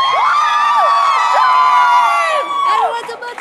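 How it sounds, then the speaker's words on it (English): A live show crowd cheering and shouting loudly, sustained whoops and high voices rising and falling over a dense roar, close and continuous before thinning slightly near the end. "So everybody give it up for John Legal"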